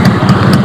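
A motorcycle fitted with a hand-made racing exhaust (knalpot) from Nopan rumbles close and loud in a brief burst, a throaty, pulsing low growl with a slightly rough, snoring edge and no speech.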